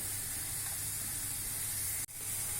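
Sliced onions and peppers sizzle in olive oil for a Kayseri yağlaması filling, a steady close broadband hiss that briefly drops out near the end before resuming.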